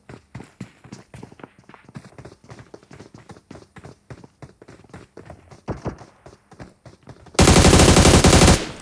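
Rapid gunfire in a shooter video game, a long string of sharp, close shots in quick rhythmic bursts, ending in a loud, dense burst of noise for the final second or so.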